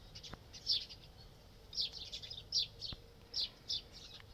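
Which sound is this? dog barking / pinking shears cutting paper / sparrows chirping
sparrows chirping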